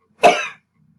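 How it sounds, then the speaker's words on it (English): A single short, sharp cough, close and clear, surrounded by near silence. "and cough"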